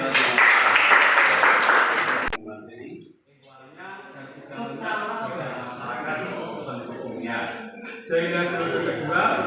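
Applause from a micro-teaching class breaks out in a short, loud burst of clapping. It cuts off abruptly and is followed by a person talking.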